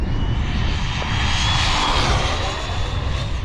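Team Corally Python RC car on 6S power with a 26T pinion accelerating hard, a continuous high-pitched electric motor whine with tire roar, loud and sustained.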